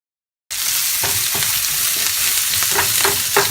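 Loud, close sizzling of food frying in a pan, with tofu breakfast taco fillings crackling steadily after a short silence, with scattered stirring scrapes and pops and no talk.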